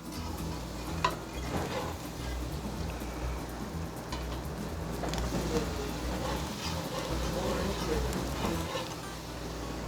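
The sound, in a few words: stirring turkey stock into hot roux for giblet gravy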